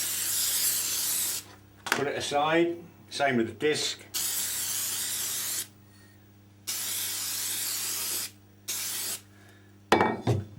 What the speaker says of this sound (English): spray the adhesive